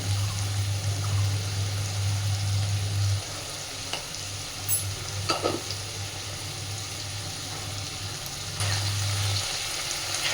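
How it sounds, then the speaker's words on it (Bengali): Spice masala for khichuri fries in a pan with a steady close sizzle, broken by occasional stirring scrapes and a low hum underneath. "এবার খুব ভালোভাবে মশলাটাকে একটু কষে নেব।"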